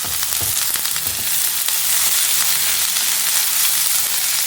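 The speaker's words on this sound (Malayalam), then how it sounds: "സവാള ഒരു ഇളം ബ്രൗൺ നിറമായി വരുന്നത് വരെ, ഒരു ഗോൾഡൻ നിറമായി വരുന്നത് വരെ നമുക്കൊന്ന് നന്നായിട്ട് ഇളക്കി കൊടുക്കാം." Sliced onions with salt sauté in a pan for a crab masala, giving a loud continuous sizzle with occasional scraping clatters as they are stirred.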